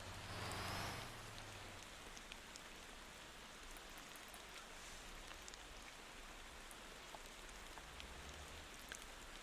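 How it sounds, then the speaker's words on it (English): Steady rain falling in the Motor Town driving game, a dense, even hiss of drops on surfaces that runs throughout with no voices, after a brief low rumble at the start. "I definitely will be turning off the rain after this session."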